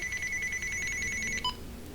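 A telephone rings indoors with a rapid electronic trilling tone that repeats steadily, then cuts off near the end, with no voices.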